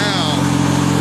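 A Craftsman LT1000 lawn tractor engine runs at a steady idle, a close, even mechanical drone with a constant pitch that holds for the whole moment.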